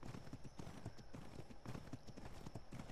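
Horse hooves clip-clop steadily in the survival video game Ark, a quick, even run of hoofbeats, faint and continuous for about three seconds with no clear talking.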